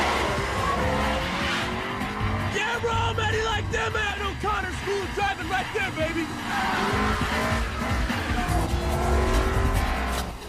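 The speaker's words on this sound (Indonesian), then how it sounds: "Perlombaan pun dimulai, di mana Brian dan Roman menunjukkan skill-skill mengemudinya di jalanan." Street race cars from Two Fast Two Furious roar along city streets with engines revving, tires squealing and skidding in a loud, continuous, close rush of traffic noise, with a voice speaking over it.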